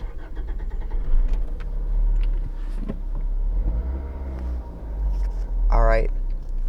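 A manual-transmission car's engine cranks and starts, its low rumble close and continuing under a person talking, with a few clicks and a short rising whine near the end.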